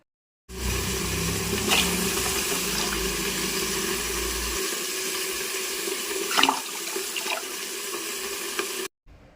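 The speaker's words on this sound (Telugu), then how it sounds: "ఇంకా ఒకసారి వంపేసి ఇందులోకైతే నీళ్ళు పోస్తున్నాను అనమాట" Water poured into a vessel of soaked rice in a home kitchen: a continuous splashing stream, close and loud, lasting about eight seconds with a slight shift in tone midway before stopping.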